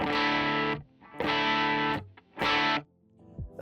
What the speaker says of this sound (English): For the first stage drive, I have the Benson preamp on, so that's gonna sound like this.